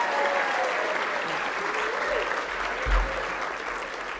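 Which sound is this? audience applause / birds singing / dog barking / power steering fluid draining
audience applause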